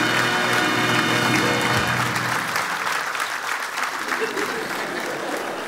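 At a talk show, a studio audience breaks into warm, sustained applause to welcome a guest called Little Red Riding Hood. The dense clapping fills the room, slowly thinning toward the end, with a voice audible early on.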